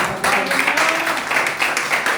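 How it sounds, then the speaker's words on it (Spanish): A church congregation claps loudly and continuously, a dense wash of applause filling the room with a voice faintly beneath it. "Vamos a dar un aplauso fuerte al Señor."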